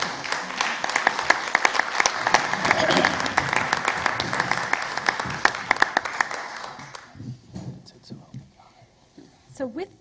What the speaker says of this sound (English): think you can all give your new board a round of applause.